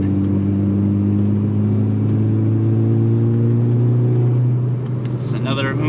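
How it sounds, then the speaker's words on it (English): A loud Volkswagen MK6 Golf R engine revs and drones steadily with a deep, rising tone throughout, close and dominant, easing slightly near the end on a rainy mountain road. "Just another hoon having fun with this loud ass car."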